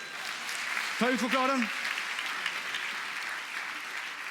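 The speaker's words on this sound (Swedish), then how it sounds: "Applåd!" A theatre audience at a live stage mentalism show breaks into sustained applause, a dense, even wash of clapping while a voice speaks over it.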